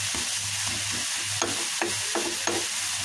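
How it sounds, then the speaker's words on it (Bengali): Pumpkin greens are stir-fried with fried onion and garlic, producing a loud constant sizzle with a few regular scraping stirs of the spatula. "এই যে শাকগুলো দিয়ে দিয়েছি, আর এই যে পেঁয়াজ রসুন ভালোভাবে মিশিয়ে দিয়েছি।"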